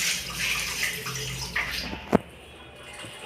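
Water splashing and running steadily into a bucket at home, a continuous wet rush with one sharper splash near the middle, then quieter.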